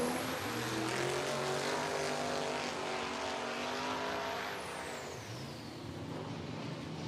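A diesel vehicle races down a drag strip at a motorsports park, its engine droning loud and steady with rising pitch as it accelerates, then easing off and dropping in pitch toward the end.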